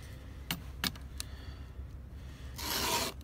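A hand file sharpens a chainsaw chain with three quick, close rasping strokes followed by a longer, louder grinding stroke at the end.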